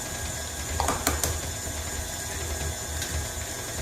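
A stand mixer creams butter and sugar for chocolate chip cookie dough, giving a steady mechanical whir with a few ratcheting clicks near the start. There is no talking.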